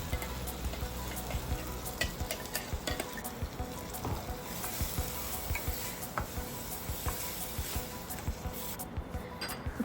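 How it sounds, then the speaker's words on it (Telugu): Tomato paste fried with onions in a pan for mushroom curry gives a continuous close sizzle, punctuated by regular scraping strokes and clicks as a spoon stirs the mixture. "ఇప్పుడు ముందుగా తయారు చేసి పెట్టుకున్న టమాటా పేస్ట్ని ఆనియన్స్లో వేసుకొని పచ్చివాసన పోయేంత వరకు వేయించుకుంటూ ఉండాలి."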